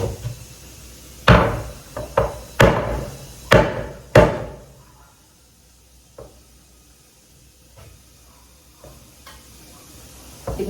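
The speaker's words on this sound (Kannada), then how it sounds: "ಮೊದಲು ಇದನ್ನ ಹಿಂಭಾಗನ ಈ ರೀತಿ ಕಟ್ ಮಾಡ್ಕೊಳ್ಳೋಣ." A sharp knife cutting through a raw mango for pickle, giving five firm, knocking chops close by in quick succession, then a quieter stretch with a few softer taps.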